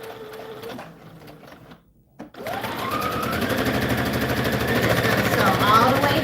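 A sewing machine runs a straight stitch through satin fabric, starting after a short pause and then whirring steadily with a fast rhythmic needle clatter that grows slightly louder.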